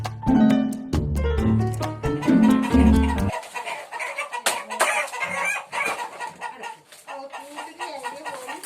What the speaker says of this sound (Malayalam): കുറച്ച് നാടൻ കോഴിക്കളുണ്ട്